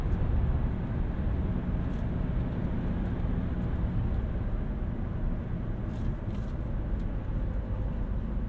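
A 2015 Chevrolet Cruze diesel car drives along steadily, its low engine and road rumble filling the cabin as a constant drone with no letup.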